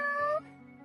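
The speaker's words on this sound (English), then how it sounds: "Yeah, you hear the kitty cat?" A single close, clear meow from a cat, rising then trailing off into a softer tail.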